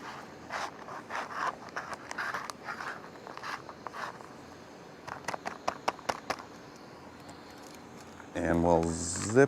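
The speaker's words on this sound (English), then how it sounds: "And we'll zip it back up." Several short, scratchy zipping strokes of a plastic seal being pressed closed, close up, followed by a person speaking at the end.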